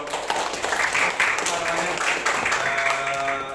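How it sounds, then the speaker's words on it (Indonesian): A class of students claps for a classmate's answer in a lesson: a fairly even wash of clapping lasting the whole few seconds, moderately loud, with faint murmuring beneath. "Tepuk tangan untuk"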